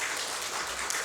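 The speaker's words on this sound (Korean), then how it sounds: "아버지들에게 오늘 박수 한 번만 좀 쳐주세요" A church congregation at a Sunday worship service claps in a brief, even burst of applause that fills the room for about a second, with no talk over it.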